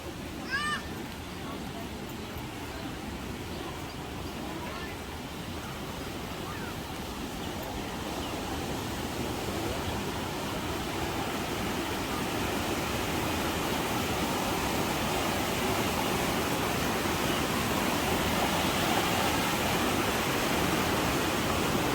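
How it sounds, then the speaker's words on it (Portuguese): Water flows continuously at the source of the Jordan River in Israel, a steady broad rushing roar that swells slightly over time, with no talking. "Fonte do Rio Jordão"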